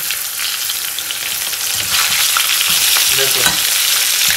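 Turmeric and chili powder fry in hot oil with meat, making a loud, dense sizzle that swells midway, with stirring scrapes and clatter close by and no voices.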